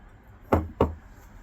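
Ice cubes drop into a glass for bourbon on the rocks, two sharp, close knocks about a quarter second apart against a quiet background.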